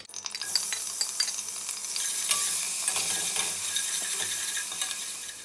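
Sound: ginger, garlic and green chillies frying in coconut oil

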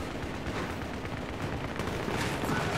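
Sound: gunfire from a gun in the video game Battlefield 3

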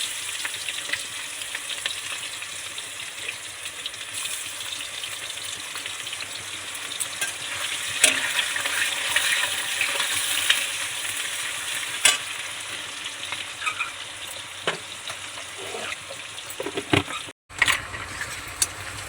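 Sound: onions with bay leaf and garam masala frying for biryani

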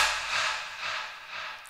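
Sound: breath sample from the Kashmir pack

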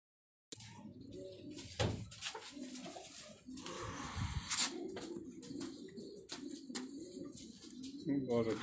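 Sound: pigeons cooing, fancy Karachi breed

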